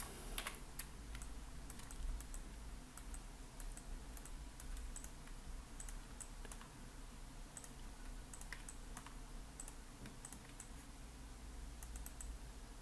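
Faint, sparse computer mouse clicks while a 3D model is being textured, heard as scattered, sharp little ticks, sometimes in quick pairs, over quiet room hiss.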